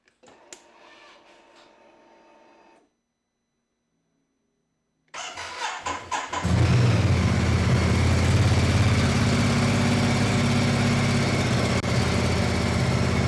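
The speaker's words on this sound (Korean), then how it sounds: "순정 머플러의 배기 사운드를 한번 들어보고요" A 2020 Ducati Multistrada 950 S on its stock muffler starts after a short pause, catching with a few sputters before settling into a loud, steady, close idle rumble.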